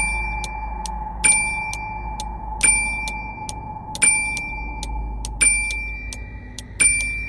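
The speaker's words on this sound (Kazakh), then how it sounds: "қоңырау соға бастады" A call bell rings repeatedly in an old woman's room, evenly spaced bright metallic dings with short ringing decays over a low steady hum, close and clear.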